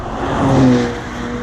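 A BMW X3 M Competition SUV engine run at full throttle, a loud rising drone that swells near the middle and eases slightly toward the end, heard close with no talk.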